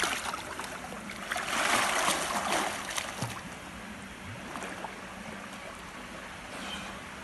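In a cold outdoor pool on a 15-degree September day, a man dives in, and a burst of splashing and churning water swells, then settles into quieter lapping and small splashes.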